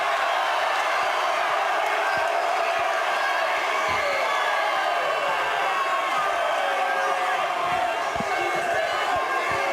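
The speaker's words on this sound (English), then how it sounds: "I got a reaction out of the crowd" Dense, loud arena crowd roaring and jeering throughout a bantamweight MMA cage fight, a sustained wash of voices with scattered shouts.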